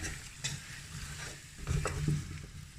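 A spoon stirs a lamb, potato and vegetable stew in a pot, giving soft scraping and sloshing over a faint simmering sizzle, with a couple of louder knocks partway through.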